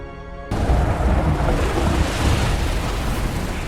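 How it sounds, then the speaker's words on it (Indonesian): A violent storm at night in a film scene, with a ship under attack, breaks out after a brief tonal musical lead-in, then roars as a loud, continuous rumbling wash of wind, rain and thunder. "Pada saat malam tiba, dengan badai yang dahsyat kapal Arthur diserang sama bangsa Trance."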